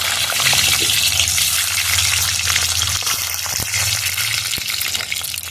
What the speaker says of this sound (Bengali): ডিমগুলো এবার ভেজে নেবো।